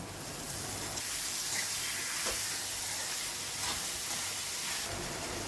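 Onion and tomatoes sauté in a pan for a vegetable biryani, giving a soft, steady frying hiss and sizzle, fairly quiet and continuous with no talking.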